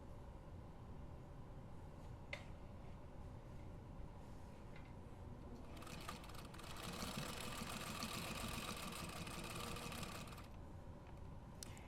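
A sewing machine back stitching a pocket onto a road trip bag, a steady low mechanical hum that grows louder and busier midway through the stitch, then eases back, with no talking.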